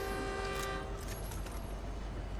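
A train in Fortnite rumbles past with a sustained horn-like tone that fades after about a second, leaving a dense mechanical rolling noise.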